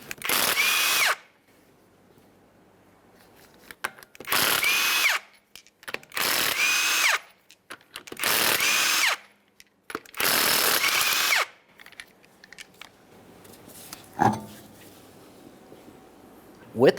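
Power tool rattling off the 19mm wheel lug nuts on a Ford Fusion, five loud close bursts separated by pauses, with a metallic clink afterward.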